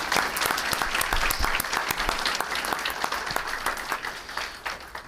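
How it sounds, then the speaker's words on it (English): A room applauds a high school state 1A championship men's golf team, with sustained, fairly loud clapping from a crowd, sharp individual claps standing out near the start and the sound thinning slightly toward the end. "Everybody give them a round of applause,"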